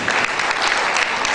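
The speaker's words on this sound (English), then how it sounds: "Can we please give them a round of applause?" Audience applause at a school language and arts day, a dense, steady wash of many hands clapping together, loud and continuous throughout.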